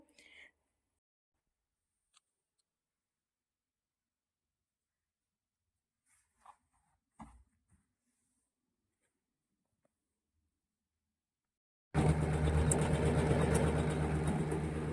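A sewing machine working on a suit starts up abruptly after a long near-silent stretch with a few faint taps, then runs loud and steady for the last few seconds.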